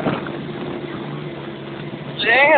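A Polaris Ranger utility vehicle driven in Idaho, its engine a steady rumbling drone that swells louder near the end, heard up close while someone talks faintly over it.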